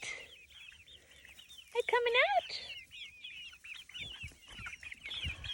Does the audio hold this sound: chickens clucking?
yes